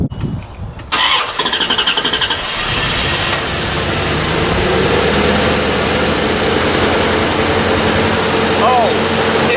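A 1994 Chevrolet Corvette C4 engine cranks, fires and settles into a loud, close, steady idle with a deep, continuous rumble.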